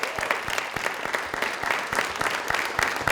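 An audience at a film talk bursts into applause, a dense, steady patter of many hands clapping with occasional louder individual claps, sustained throughout the short stretch.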